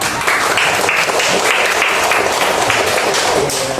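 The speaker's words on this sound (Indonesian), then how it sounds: "beri tepuk tangan kepada temannya yang sudah berani menjawab." A classroom full of students claps steadily for several seconds for a classmate who answered, a dense, continuous burst of applause that stays loud and even throughout.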